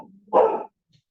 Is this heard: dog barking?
yes